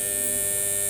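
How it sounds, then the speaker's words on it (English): A Copal 227 electric alarm clock, which had stopped working, has just been plugged in and switched on, and its alarm gives a steady, loud electrical buzz with a constant hum and no break. "Oh, yep, that's the alarm."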